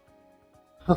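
A single short sneeze bursts out close to the mic at the end of a quiet stretch of faint background noise, during an online tabletop role-playing game session.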